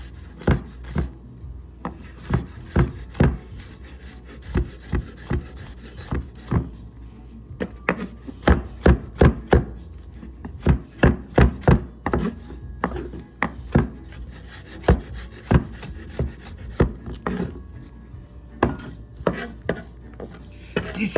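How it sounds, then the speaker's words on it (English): A knife chops garlic on a wooden cutting board for homemade Jamaican beef patties, sounding as irregular bursts of quick, sharp taps that cluster into fast runs and then pause, close and crisp with no talking. "Chopping up my garlic."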